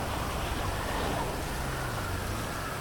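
Steady rain hisses continuously in the GTA Online video game, a dense, even wash of falling rain with a faint low rumble underneath, constant and fairly loud throughout.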